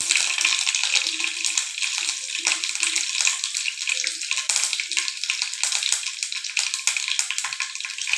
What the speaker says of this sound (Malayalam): ഞാൻ 4 ടീസ്പൂൺ കടുക് ഇട്ട് പൊട്ടി വരുന്നുണ്ട്.